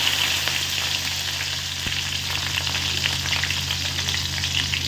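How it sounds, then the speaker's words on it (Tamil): Mustard seeds and fenugreek fry in hot oil for a fish curry, making a steady sizzling crackle with small popping bursts throughout and one sharp tap. "கடுகு போட்டாச்சு அப்புறமா வெந்தயம் போடுவோம் ரெண்டு நல்லா பொரியட்டும்"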